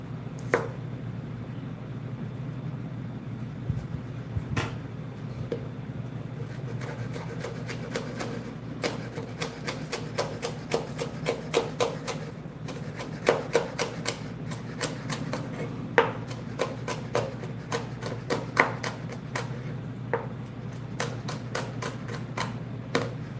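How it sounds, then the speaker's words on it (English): Kitchen knife chopping spring onion or chives on a board, a run of quick, sharp taps in uneven bursts close to the ear, fairly quiet, with brief pauses between strokes and no talking. "I'll continue cutting up the aromatics. This is what we call spring onion or chive."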